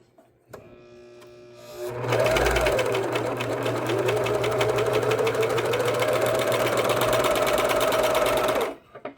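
A sewing machine stitches sleeve fabric for a banded short-sleeve alteration: a brief start, then a loud, fast, even run of stitching with a motor hum for about seven seconds before it stops.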